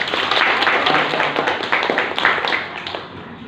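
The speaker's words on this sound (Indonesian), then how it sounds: "tepuk tangan buat kalian" A classroom of students claps together for a few seconds, a lively crisp burst of hand claps close by that tapers off toward the end.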